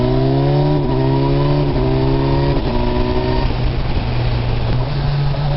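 Kawasaki Versys 1000 SE motorcycle engine revving hard under throttle, pitch climbing in steady surges before dropping at each upshift, three or four gear changes in a row, loud and close over constant wind rush.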